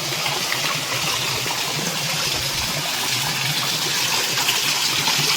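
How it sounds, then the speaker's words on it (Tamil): A small waterfall at Sivanathapuram, a hidden falls near Chennai, pours in a steady, loud broadband rush of falling water that continues unbroken throughout with no voices. "ஆனால் இது அங்கே ஒரு சின்ன ஃபால்ஸு, இங்கே ஒரு சின்ன ஃபால்ஸு, அப்படியே இப்படி விழுந்து இது போகுது"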